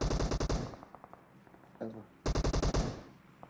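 Automatic gunfire in the video game PUBG: two bursts of rapid, loud shots, one at the start and another near the end, with a brief quieter gap between them.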